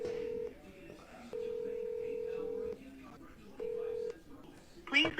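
A telephone call is dialed and rings through toward voicemail: steady electronic tones repeat in long beeps separated by gaps, quiet and close, with a brief burst of voice at the end.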